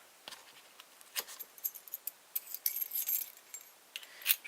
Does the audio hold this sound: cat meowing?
no